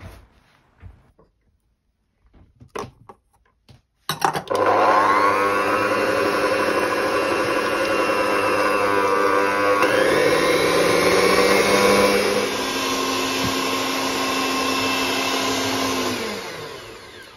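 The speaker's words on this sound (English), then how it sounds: "all four eggs have been whisked" An electric whisk beating eggs for glace cherry muffins starts after a few quiet knocks, then runs as a loud, steady whirring drone for about twelve seconds, its pitch shifting midway before it slows and stops.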